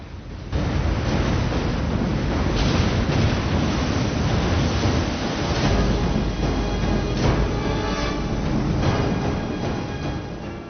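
Roaring ocean waves flooding a city in a disaster film scene, a dense, continuous wash of surf and wind with heavy low rumble that surges throughout, heard alone.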